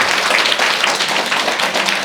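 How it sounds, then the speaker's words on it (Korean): Warm applause from an audience at a talk, a loud, dense burst of many hands clapping together, continuous and close throughout. "여러분 뜨거운 박수 한번 주세요"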